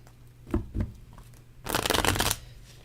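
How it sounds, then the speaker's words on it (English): A couple of soft tarot card taps, then a quick, crisp burst of tarot cards being riffled and shuffled up close, lasting under a second. "Let's shuffle this one more time."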